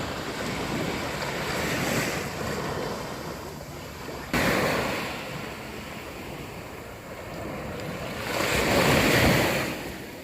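Ocean waves wash ashore on a sandy beach at Tanjung Bunga, Makassar, in broad surging swells, one stronger crash near the end, with wind rushing across the microphone throughout.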